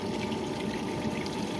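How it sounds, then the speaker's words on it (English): A Bestway above-ground pool sand filter during backflush gives a steady, loud rush of pumped water, with sand churning inside the tank beneath an even hiss. "You hear the sand kind of flicking around in there."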